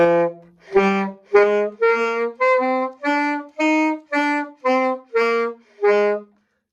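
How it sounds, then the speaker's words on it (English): A saxophone plays a series of about ten short, separate notes with huffy breath, each with a breathy puff at its start and end, played alone. "If I have a huffy breath, you'll be able to hear it at the start and the end of note"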